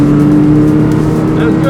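A McLaren Senna GTR accelerates at full throttle on a racetrack, heard from inside as a loud, constant engine drone that stays steady throughout, with voices talking over it.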